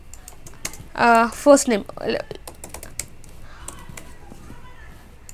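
Typing code on a computer keyboard: quick, irregular key clicks close by, with a person talking briefly early on before the tapping continues alone.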